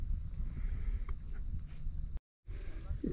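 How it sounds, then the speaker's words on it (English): Crickets chirp outdoors during the 2024 total solar eclipse over North America. Their steady high trill runs continuously at a fairly faint level, with one brief dropout partway through. "I don't know if this is going to pick up the cricket sounds"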